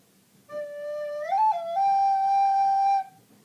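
A recorder plays the opening bar of a song: a clear, breathy sustained tone that slides upward, wavers briefly, then holds a higher note before stopping, alone and close.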